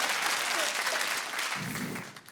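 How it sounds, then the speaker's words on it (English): Studio audience of a British comedy panel show breaks into loud, dense clapping that holds steady, then thins and fades toward the end as a voice begins under it. "A couple of applauses over here, not for everybody, that's fine."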